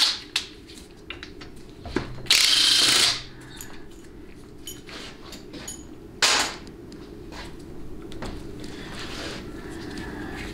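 A half-inch ratchet works on the modulator of a TH350C transmission, sharp metallic clicks and clanks scattered irregularly, with two louder bursts of ratcheting, close and alone.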